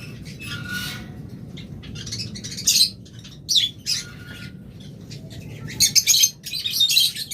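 Lovebirds give bright, scattered chirps and squawks in short bursts, the loudest near the end, over a steady low background rumble from the aviary surroundings.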